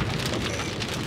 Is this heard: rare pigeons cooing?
no